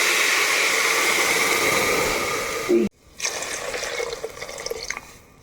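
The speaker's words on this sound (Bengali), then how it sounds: "এই বাটি দিয়ে আমি দুই বাটি জল দেব" Water pours from a bowl into a pot of rice in two close, steady splashing streams separated by a brief pause, the second pour slightly softer.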